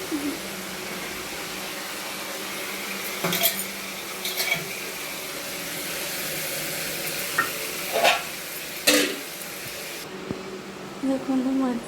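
Santula, an Odia mixed-vegetable dish, simmers in a pot while being stirred, giving a steady low bubbling bed broken by several sharp clinks and scrapes of a spoon against the pot.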